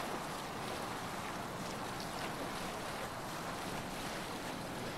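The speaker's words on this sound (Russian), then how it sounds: "на корабле быстрее, чем там по горам бегать. Ветер хороший, под парусом идем." A sailing ship cuts through waves under wind in the Assassin's Creed Valhalla video game, a soft, steady wash of surf and wind noise, faint and continuous, with no voices.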